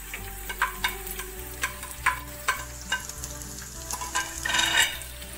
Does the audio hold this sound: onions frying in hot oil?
yes